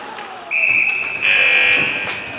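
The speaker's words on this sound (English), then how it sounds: "the buzzer brings the shift to an end" Shift buzzer at an under-16 women's ice hockey game between Whitley Bay and Sheffield Shadows, a loud steady electronic tone sounding twice in close succession and carrying over the arena's ambient noise.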